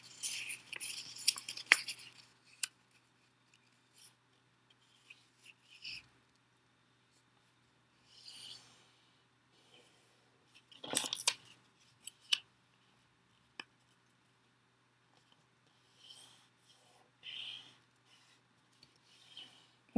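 Origami paper gets creased as its top corners are folded down to the middle for a pencil holder, with soft crinkles and rustles coming in scattered bursts over near silence.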